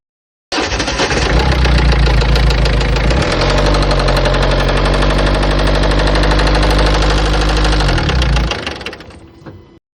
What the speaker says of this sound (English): That is what you call a rod knock.